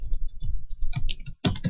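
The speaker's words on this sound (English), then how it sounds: "I am going to just type a little phrase here" Someone types a short phrase on a computer keyboard, with a close, quick run of key clicks broken by one brief pause before a final flurry.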